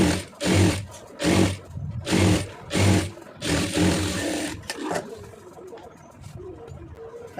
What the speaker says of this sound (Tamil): மார்க் பண்ணிவிட்டு தைச்சிருங்க. இதுக்கு மாத்திரம் பெரிய தையல் வச்சுருங்க.